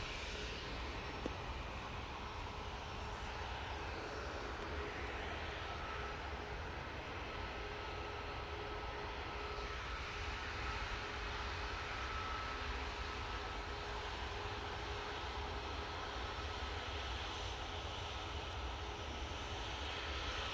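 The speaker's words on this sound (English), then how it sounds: "Air tanker is coming over." An air tanker aircraft flies over Manchester Airport, its engines a steady, moderately distant roar and rumble that holds evenly throughout with no talk.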